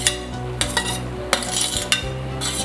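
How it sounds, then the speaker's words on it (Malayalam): Avial vegetables with mango and tomato being stirred in a pot for Kerala avial, giving a few sharp metal spoon clinks and scrapes against the vessel at irregular intervals, close and fairly clear, with no talking. "ഇട്ടതിന് ശേഷം ഒന്ന് ഇളക്കിയിടണം"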